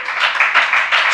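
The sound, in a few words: audience clapping hands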